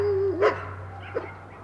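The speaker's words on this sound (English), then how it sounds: "These dogs barking over here." A dog barks in the distance, two brief barks about a second apart, faint over a steady low hum with no talking.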